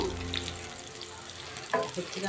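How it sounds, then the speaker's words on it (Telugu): Bitter gourd pieces fry in oil, making a soft, steady sizzle with a brief stir or clink near the end. "ముందే మనము ఆయిల్లో ఇలా వేపుకుంటాం అన్నమాట"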